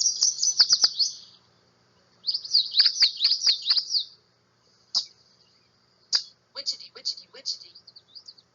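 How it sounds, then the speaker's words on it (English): A common yellowthroat sings rapid, bright, rolling phrases in bursts, then gives shorter scattered chirps after brief pauses. It is clear and fairly close, with no talking. "Here's the sound of the common yellowthroat."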